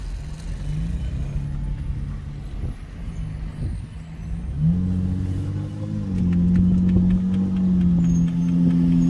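A Honda Accord with a 3.5-litre V6 rated at 278 hp pulls away under throttle, its engine note climbing steadily in pitch and volume as it accelerates, loud and close with no talking.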